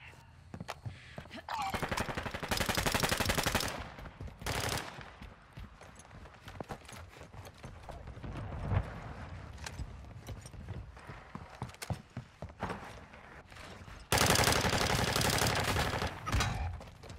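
Gunfire in the Call of Duty Modern Warfare II video game comes in loud automatic bursts between stretches of quieter combat noise, with faint game voice lines at times.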